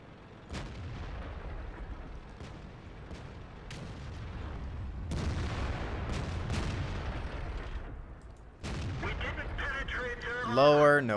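Repeated heavy tank cannon shots in World of Tanks, from a Super Pershing among other tanks, booming blasts spaced a few seconds apart with rumbling tails, ending in a burst of metallic ringing. Game sound plays alone.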